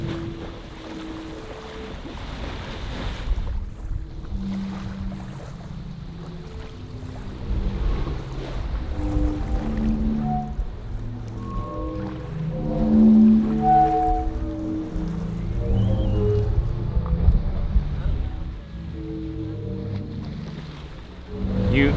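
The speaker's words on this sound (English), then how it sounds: "So if you come in the middle of the day when it's windy like this, the music's kind of chaotic." The Zadar Sea Organ in Croatia, voiced by waves on a windy day, sounding a chaotic scatter of overlapping low breathy pipe tones beneath continuous wind rush and sloshing water, with no talking.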